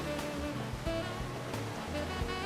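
A waterfall in the video game Planet Coaster 2 gives a steady, wash-like roar of falling water, constant and fairly faint, with soft musical tones layered over it and no voices.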